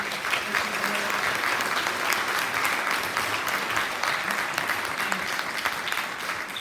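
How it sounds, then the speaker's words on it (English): A middle school assembly audience applauds a spring sports team in a steady, dense wash of clapping that continues throughout, with some voices mixed in beneath. "So again, I want to please give them a round of applause."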